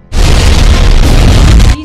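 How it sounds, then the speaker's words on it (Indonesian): A grenade blast in a Resident Evil action film erupts as one loud, sustained boom that rumbles for over a second before cutting off abruptly. "Seketika Alice melemparkan granatnya."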